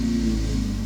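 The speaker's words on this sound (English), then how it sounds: "Some people in the neighboring houses are mowing their lawns because it's not raining today" Lawn mowers running in neighboring gardens make a steady, distant mid-pitched engine drone throughout a brief moment.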